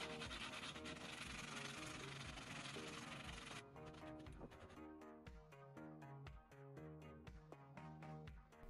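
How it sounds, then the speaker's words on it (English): Steady scraping and rubbing of hand sanding with a sandpaper sponge, continuous at first, then with short rhythmic strokes and a tonal musical bed underneath. "I use this sandpaper sponge"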